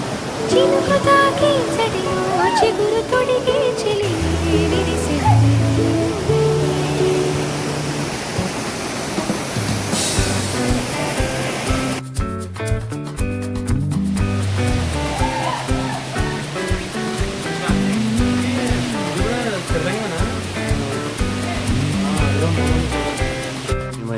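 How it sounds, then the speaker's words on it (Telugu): Rampachodavaram waterfall in Andhra Pradesh roars as a steady broadband rush of falling water, loud and continuous, with some faint background sounds layered over it. "మొత్తానికి రంపచోడవరం జలపాతానికి అయితే వచ్చేసాం"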